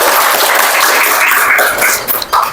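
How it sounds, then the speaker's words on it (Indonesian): A classroom of students gives a round of applause for Sarah during a coding and artificial intelligence lesson, loud dense clapping close by that thins out near the end. "Tepuk tangan dulu untuk Sarah."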